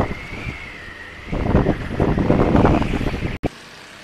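Wind gusts buffet the microphone at a Bali beach while surf swells and rolls in midway. The crashing wash stays loud before cutting off abruptly near the end.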